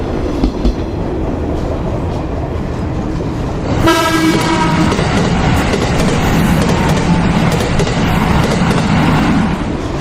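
A train runs along Sri Lanka's coastal railway between Colombo and the southern coast, its loud rumbling and rattling wheels continuous and close, with a long horn blast sounding partway through.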